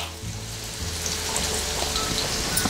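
Onions hit hot refined oil in a pan with a dense, crackling sizzle that grows steadily louder over a few seconds, with no talking.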